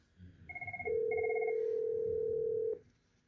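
A Yealink IP desk phone rings with an incoming call, giving a few short warbling chirps and then one long steady electronic tone. It is loud and close, with no one talking.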